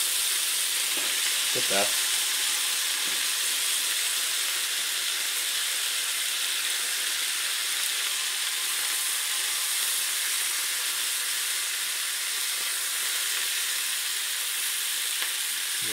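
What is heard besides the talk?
sausages frying in a pan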